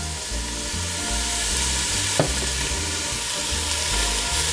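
Onions frying in oil in a pan for a classic marinara, a steady close sizzle with a brief sharp click partway through.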